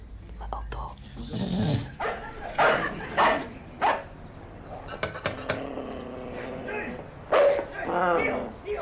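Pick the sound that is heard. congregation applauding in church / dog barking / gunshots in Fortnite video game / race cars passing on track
dog barking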